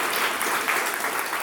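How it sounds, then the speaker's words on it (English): Outdoor crowd applause at a groundbreaking ceremony for a $30M arts plaza in East San José, a brief, steady patter of many hands clapping with no voices over it. "Please, let's give her a round of applause."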